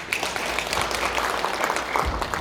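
Audience applause at a community energy planning gathering, welcoming a guest speaker to the front; steady, dense clapping from a roomful of people, moderately loud and continuous with no voices.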